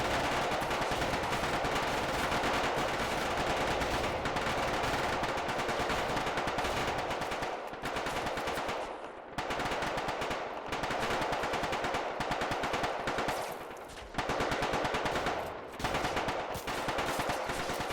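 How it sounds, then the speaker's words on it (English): Yugoslav troops fire machine guns in a video game battle at Kosare in 1999, a dense and continuous roar of automatic gunfire that runs the whole time with only brief dips. "The Yugoslav troops are opening fire."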